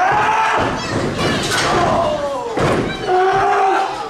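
At an SWW indoor wrestling show, JK Moody's blue thunderbomb drives an opponent onto the ring mat with a heavy thud, and a cheering crowd and an announcer's voice carry over and after the impact.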